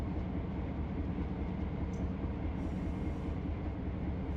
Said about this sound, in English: I'm told to stop the train, but I'm pulling to the siding.